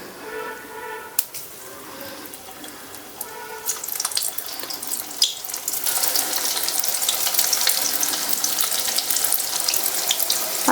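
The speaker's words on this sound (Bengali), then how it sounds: "এবার আমি সাদা তেলটা দেবো" White cooking oil is poured into a hot wok on a gas flame for crispy chili corn, starting with faint clinks and trickles and building into a loud, steady hiss that fills the second half.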